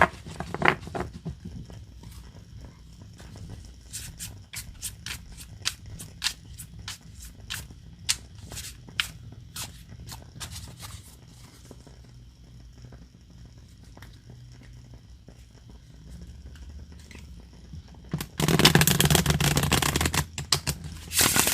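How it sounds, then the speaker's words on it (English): A tarot deck is shuffled by hand in a quiet room, a run of crisp riffling taps and flicks close to the microphone, ending in a louder burst of rustling. "I'm just going to weight my cards down while I do a little extra shuffling."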